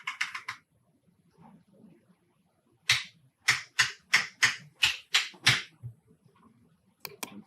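Code numbers are typed on a computer keyboard: a brief cluster of keystrokes, a pause, then a quick run of about eight crisp, close clicks and a final couple of taps.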